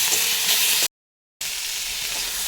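Cumin and green chillies being stirred and fried in a pan for a potato and pointed gourd gravy: dense, close sizzling hiss, briefly cut off by a moment of silence, then sizzling again.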